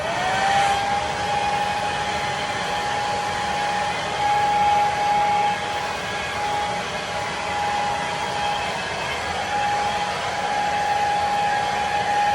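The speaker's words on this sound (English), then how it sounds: "Now I'm going to dry the tips, or where the clips are." A handheld hair dryer blows on the tips of long hair, giving a loud, steady, continuous whirring rush with a faint constant whine that runs unbroken throughout, with no voices.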